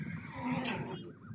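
A horse on a Kazakh livestock farm neighs close by, a single loud whinny rising and falling over about a second with no talk around it.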